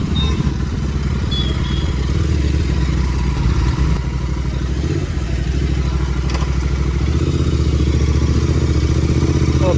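A 2019 Royal Enfield GT 650 cafe racer motorcycle engine thrums up close with a steady low throb, punctuated by a few clattering knocks and thumps.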